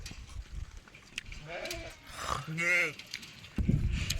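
Sheep on a village sheep-milk farm bleat twice in quick succession, one wavering cry followed by a longer, louder one, close by over low rustling background noise.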